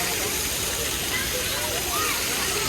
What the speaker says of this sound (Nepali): पानी चाहिँ खतरा रहेछ यहाँनिर